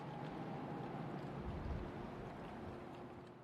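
Soft, steady wind blows in a broad hiss with a low swell in the middle, quiet and distant, with no voices.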